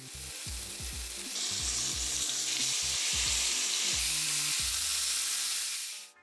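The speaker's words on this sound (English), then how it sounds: "Cook the steaks for about 3 minutes on each side for medium rare." Scotch fillet steaks fry in a pan with a strong, even sizzle and hiss that carries on steadily, while soft low music notes play underneath, before the sound cuts off.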